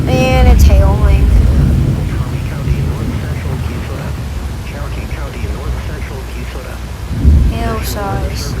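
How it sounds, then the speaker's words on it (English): Thunderstorm with hail in a storm-chasing video game: a loud roar of pouring hail and rain, with rumbles of thunder swelling near the start and again near the end, while someone talks over it. "And it's hailing."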